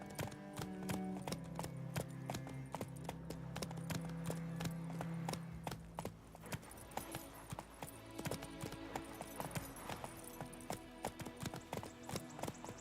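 Horse hooves clip-clop in The Witcher 3, a steady trotting rhythm heard close over game music and ambience, with a held tone early on and occasional louder hoof strikes later.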